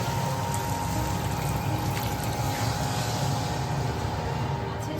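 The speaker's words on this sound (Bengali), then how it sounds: "কষাই মশলার মধ্যে মশলা ধোয়া জলটা দিয়ে দিচ্ছি।" Spice-washing water goes into a pan of frying spices, giving a steady, dense wash of bubbling and hissing liquid that stays close and even, without pauses, throughout the few seconds.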